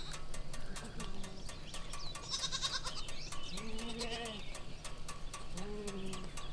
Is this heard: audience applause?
no